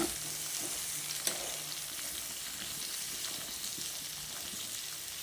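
Medium tomatoes are added to potatoes frying for an aloo fry, producing a soft, steady sizzle with one sharp clack of contact early on and faint stirring beneath the continuous hiss.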